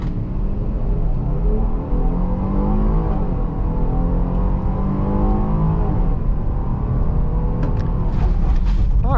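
A Jeep Grand Cherokee L SUV engine roars under full-throttle acceleration in sport mode, its pitch climbing steadily through the gears, loud and close from inside the vehicle.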